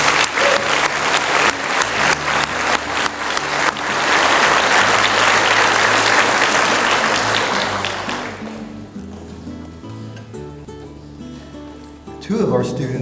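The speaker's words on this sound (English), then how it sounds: "Let's give them another round of applause." At an honors breakfast, an audience gives students a loud, sustained round of applause that swells and then thins out, with music playing underneath as the clapping fades.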